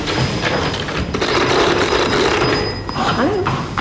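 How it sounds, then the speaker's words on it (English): A toy phone rings with a thin, steady electronic tone, heard over a busy room while people talk. "Sorry, that's a toy phone."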